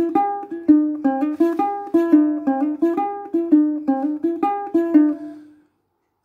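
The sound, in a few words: ukulele picking part of a song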